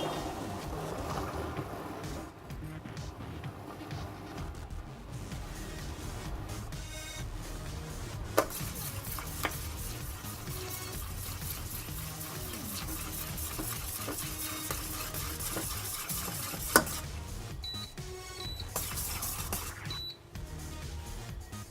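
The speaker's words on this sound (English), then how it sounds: "We'll get this coffee to a good boil." Coffee heats to a boil in a pot, giving a continuous rushing, bubbling roar with a few faint clinks. It runs unbroken, fairly close, with no talk.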